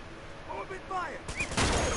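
Gunfire rings out in the Uncharted 2: Among Thieves game, a dense burst of shots arriving in the last stretch after quieter game sounds and chirps, loud and close.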